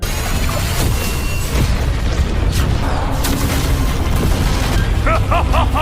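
A laser cannon blast in an animated science-fiction series booms heavily. A deep, loud, sustained rumble fills the whole stretch, with brief bright chirping tones flickering near the end.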